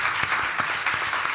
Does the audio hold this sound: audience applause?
yes